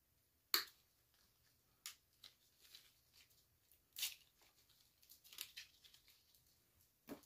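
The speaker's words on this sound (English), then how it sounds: "Cut your little florals up." Artificial florals being snipped apart for a summer wreath, heard as scattered sharp scissor snips and crisp rustles with a few louder cuts, close by and without talk.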